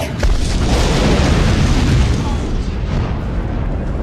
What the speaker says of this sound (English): we needed a big fiery explosion for the climax